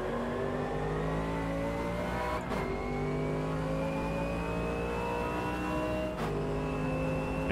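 A GT race car in Automobilista 2 runs with a steady, loud engine whine that climbs gradually in pitch. Two brief gear-shift breaks cut through the sound along the way.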